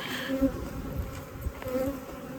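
Saskatraz honey bees buzzing during a hive inspection, a continuous close droning hum with a few louder passes of individual bees near the listener, and no voices.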